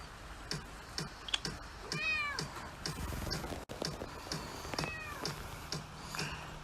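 A cat meows twice, short rising cries a few seconds apart, close by, over light clicking and tapping in the room.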